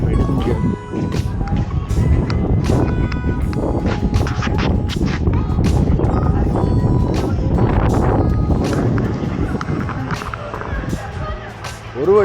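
Strong wind gusts at the Statue of Unity buffet the microphone as a loud, continuous roar with irregular thumps and bursts, heard under a person talking.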